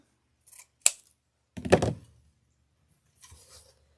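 Scissors snip through ribbon to cut a dovetail end for a Halloween ghost bow: one crisp close snip, then a longer crunching cut and a fainter final snip, with no talking.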